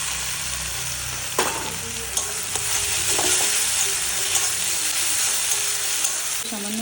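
Ginger garlic paste frying and sizzling in a pan along with tomato and green chilli, a steady close hiss with a few stirring scrapes and clinks and no talking.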